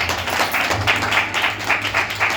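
Congregation clapping hands together during a lively church worship service, a steady rhythmic beat of claps over a low background hum, moderately loud and continuous.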